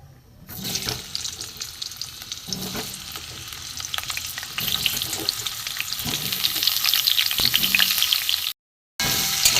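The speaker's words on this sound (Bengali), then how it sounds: "আলুটা একটু ভেজে নেবো লাল করে," Potatoes tossed in turmeric sizzle steadily in mustard oil in a wok, a close, continuous crackle that grows louder and more intense, with a brief dropout near the end and no talking.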